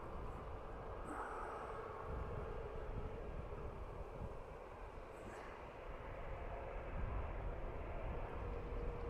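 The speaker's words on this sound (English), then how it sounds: "this is a Ryanair off to Split in Croatia" A Ryanair airliner departing Dublin Airport for Split, Croatia, produces a distant, steady low jet roar that swells slightly toward the end, heard faint and alone.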